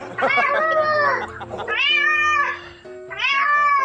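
A cat meows loudly and close up, three long drawn-out wailing calls in a row with brief gaps between them and no talking over them.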